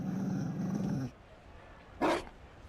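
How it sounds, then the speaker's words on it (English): A Mabari war dog in the Dragon Age video game gives a low, sustained growl for about a second, then after a pause a single short, loud bark; no one talks over it. "Oh, he's got a dog."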